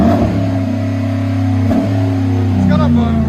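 A Chevy Avalanche 5.3L V8 with a cut-off muffler, resonator and tailpipe revs through a loud open exhaust, a deep steady drone held close and strong for a few seconds with a brief dip and rise, with a voice speaking over it.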